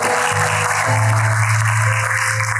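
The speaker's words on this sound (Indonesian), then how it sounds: "Beri tepuk tangan buat Allah kita." Church congregation clapping during a sermon service, a moderate wash of applause mixed with sustained musical tones underneath, continuing evenly for the whole stretch.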